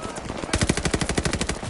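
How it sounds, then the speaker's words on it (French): Rapid machine-gun fire in the Call of Duty: Vanguard video game, a loud, fast burst of regular shots that grows heavier after a short opening spell. "Ouvre le feu sur cette arme."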